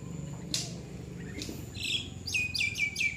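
Captive hunting bird calling while being fed, giving a series of sharp high chirps that grow into rapid repeated notes toward the end, close and clear over low rustling and handling noise.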